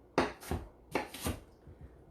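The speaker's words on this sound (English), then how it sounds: "And just enough chopping to get it in here." Half a medium onion is chopped for salsa in a small chopper, giving four sharp chopping strikes in two pairs, followed by fainter taps.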